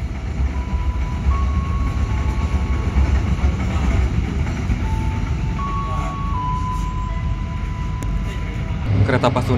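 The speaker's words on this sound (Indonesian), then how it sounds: "Kereta Pasundan kembali melanjutkan perjalanan." A Pasundan passenger train rolls along on its journey, a loud, continuous rumble with a high tonal whine drifting above it and a burst of clatter near the end.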